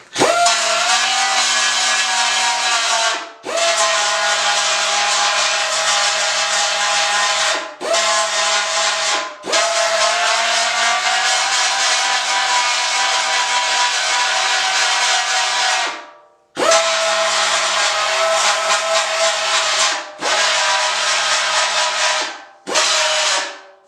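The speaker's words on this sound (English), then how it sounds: "I'll take my belt sander, clean those up, see how they look." A belt sander grinds on metal during a hole repair, a loud, steady abrasive whine in long bursts that stop and restart several times, with no talk.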